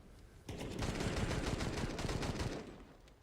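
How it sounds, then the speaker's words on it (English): Rapid automatic FAMAS gunfire in Counter-Strike during a professional match, a dense sustained burst of shots lasting about two seconds, loud and continuous with no talk over it. "Quad kill on the hay bales. Guns them all down. With the FAMAS."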